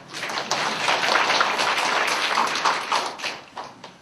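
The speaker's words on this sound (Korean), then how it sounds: "그 사람들 박수 한번 쳐줘" An audience at a Sunday school gathering gives a burst of hand clapping in honour of long-serving Sunday school teachers. The dense, close clapping holds steady, then thins into scattered claps as it dies down.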